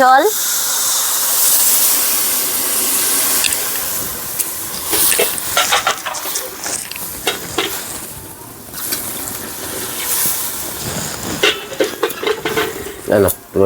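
Cumin powder going into a frying tomato dish, stirred with loud clattering scrapes of a utensil against the pan over a steady sizzle, with a voice speaking at times.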